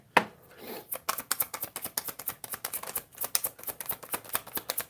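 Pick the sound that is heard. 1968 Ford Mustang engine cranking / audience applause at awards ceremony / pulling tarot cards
pulling tarot cards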